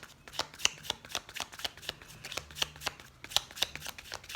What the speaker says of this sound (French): On va tirer quelques cartes